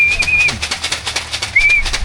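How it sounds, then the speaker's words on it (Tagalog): Racing pigeons at a toss release point in Gapan, calling with short high whistling chirps and soft coos over a low, steady background rumble. "yun pa yung mga kalapati natin"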